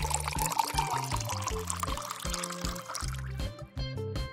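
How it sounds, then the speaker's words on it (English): Water pours into a big bowl of cooked noodles with a smaller bowl set inside, a steady splashing fill that rises in pitch as the bowl fills, under soft background music with no speech. "Pour more water into the noodles."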